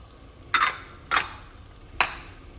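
Whole garam masala spices fried in oil for salmon fish biryani: three short, bright bursts of sizzling stirring stand out against a faint background hiss.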